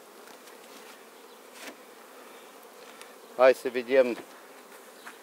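Honeybees buzz steadily at an opened hive during a spring inspection, a constant droning hum with a few louder passes of bees close by; someone speaks briefly partway through.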